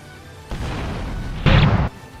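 Two short bursts of blast sound from an explosion quirk attack in the Roblox game Boku No Roblox, the second louder and harsher, each about half a second to a second long, with no voices.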